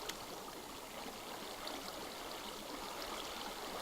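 Water from a bucket flows steadily in Minecraft, a continuous soft trickling, streaming wash that stays faint and even throughout with no voices.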